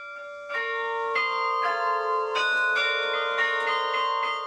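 The carillon bells of Forcalquier, in the Alpes de Haute Provence, chime in a bright melodic sequence, overlapping strikes ringing out with long resonant tails, clear and alone.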